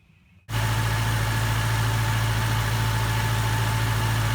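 A Ford FG GT's 5.4-litre quad-cam 42-valve V8 starts up and settles into a loud, steady idle, a deep continuous rumble with a constant low hum.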